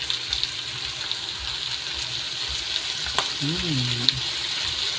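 Adobo frying in hot oil in a pan, a steady broad sizzle that runs throughout at moderate loudness, with a brief low voice-like hum near the end.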